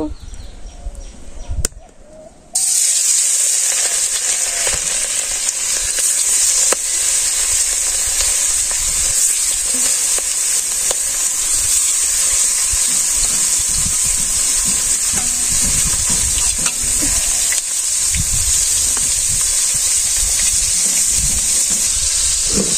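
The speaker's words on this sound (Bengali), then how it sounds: "তেলটা গরম হয়ে গেছে, এখন মাছগুলো দিয়ে দিব।" Fish coated in chili powder and tomatoes frying in hot oil, giving a loud, steady sizzle that bursts in after a brief quiet start and keeps going with faint low knocks beneath.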